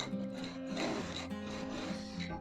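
Almond and hazelnut powder batter for a homemade galette des rois being mixed by hand in a bowl, a steady scraping, rubbing stir that continues evenly throughout at close range, with no talking.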